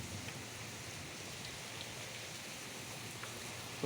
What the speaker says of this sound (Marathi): फुल पाऊस आहे विजा विजा पण चमकत आहेत